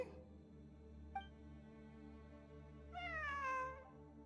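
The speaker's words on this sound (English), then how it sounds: "A cat? I think there was one earlier, too. I'm not hearing things. It really is a cat." Cat meowing in the Genshin Impact Sumeru event: a brief faint chirp, then a clear, drawn-out falling meow, close and alone over a low background hum.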